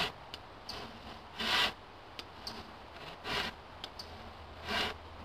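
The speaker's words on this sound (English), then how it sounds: "I can see this line on this side of the timber, so I saw like this." A hand saw cutting timber along a marked layout line in timber framing, heard as three rasping strokes at a steady pace with faint taps between them, close by and with no talk.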